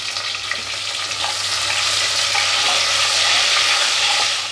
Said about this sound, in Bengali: এবারে আমি ডিমগুলো একটু ভেজে নেব হালকা লাল আর আমি পেঁয়াজগুলো এই তেলে ভেজে নেব